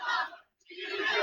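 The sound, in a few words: wrestling arena crowd cheering for CM Punk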